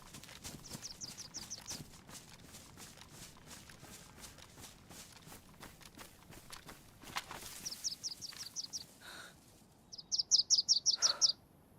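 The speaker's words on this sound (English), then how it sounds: "That bird was so loud." Birds in the DayZ video game chirp in quick rhythmic bursts, with a sharp, loud trill close by near the end, over a soft steady patter of footsteps.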